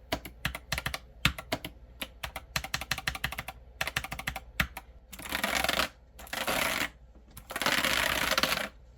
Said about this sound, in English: Now we're gonna try to be real quiet and get some audio of the keystrokes.